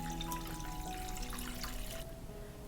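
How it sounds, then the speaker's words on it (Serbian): Water runs steadily into a pot of glass jars set on a cloth for pasteurizing, a close continuous trickling splash that thins out near the end. "Isipat ću vodu u šerpe do visine poklopca."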